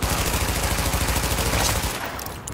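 Sustained automatic gunfire in the shooter video game Tom Clancy's The Division, a dense continuous rattle of rapid shots that stays loud and close before easing off near the end.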